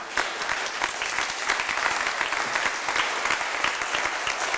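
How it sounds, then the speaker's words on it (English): An audience at an anti-nuclear speakout about the Pilgrim reactor applauds, a dense, steady wash of many hands clapping together at close range, sustained evenly throughout with no speech over it. "You don't have to clap."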